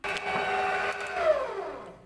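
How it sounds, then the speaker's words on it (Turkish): An electric mixer whirs through hot milk pudding with a loud, close, steady motor whine. Near the end the whine sags and drops in pitch, and no one talks. "mikserde karıştıracağım"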